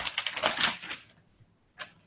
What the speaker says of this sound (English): I hear a lot of paper shuffling.